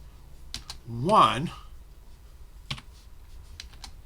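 Sharp, irregular keystroke clicks from a computer keyboard while Emacs control sequences are entered, a few isolated taps spread over a few seconds, with a short spoken word in between.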